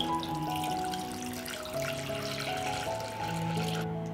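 Water runs steadily into a metal pot holding glass jars, a continuous pouring rush with ringing tones, no voices.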